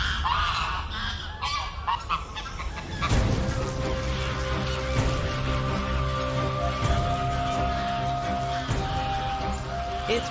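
Flock of large wild birds sounding loud honking alarm calls at a nearby fox in winter, a sudden chorus of many overlapping honks that starts partway through and continues noisily.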